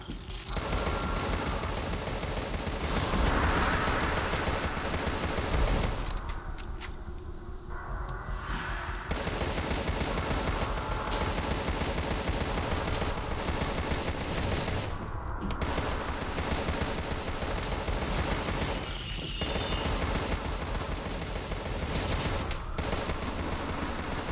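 Continuous heavy gunfire from the Contra: Rogue Corps video game, fired while the character keeps moving, roars almost nonstop for the whole stretch, loud and dense, broken only by a few very short pauses.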